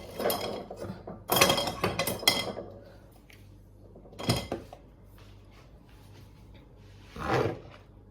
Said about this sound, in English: I'm going to spoon the gravy over